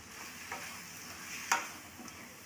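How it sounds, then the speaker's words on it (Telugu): Chicken fry sizzling in a pan with fresh coriander, stirred by a spatula, giving a steady close hiss broken by a few sharp scrapes and clicks of the utensil against the pan. "ఇది కలుపుకుంటూ ఫ్రై చేసుకోవాలి"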